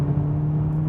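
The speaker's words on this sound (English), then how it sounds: "when you press the sports button, it makes the exhaust sound louder, though it's not actually the exhaust." Artificial exhaust sound of a 2015 Volkswagen Polo GTI is piped through the car's speakers during a downshift. It is a steady, loud engine drone with a strong low hum, heard alone.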